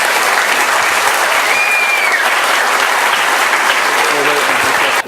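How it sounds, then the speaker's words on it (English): Loud, sustained audience applause at a closing ceremony, a thick wash of clapping that holds steady for five seconds before cutting off abruptly. "please, a huge, huge round of applause for everyone"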